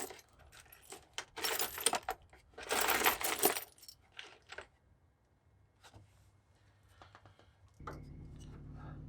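Loose Jeep nuts and bolts rattled and clinked while rummaging through a pile of metal parts, several bursts of jangling metal close by, then quieter scattered clinks and a low hum.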